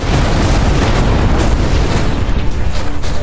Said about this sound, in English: More torpedoes were just fired.